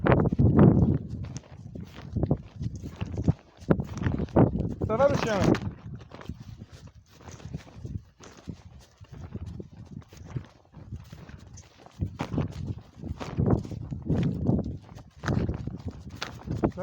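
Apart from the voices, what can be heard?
horses walking, hooves clip-clopping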